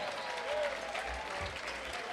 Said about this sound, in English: Let's give these 2 boxers another big round of applause